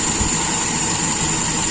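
A stationary engine revving at high RPM, with its carburetor air and fuel mixture being adjusted, gives a steady, loud, continuous drone with a constant high whine, close by and with no voices.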